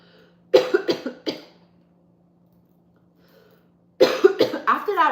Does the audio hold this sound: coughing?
yes